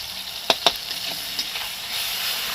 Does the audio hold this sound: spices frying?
yes